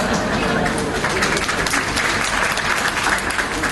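A church congregation claps loudly and steadily in a big indoor hall, a dense, sustained wash of applause with voices underneath.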